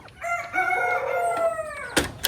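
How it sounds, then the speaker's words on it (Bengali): A rooster crows in one long drawn-out call close by, ending with a brief cluck from nearby desi hens. "তো এই তিনটা তিনটা করে মুরগি আছে আপাতত"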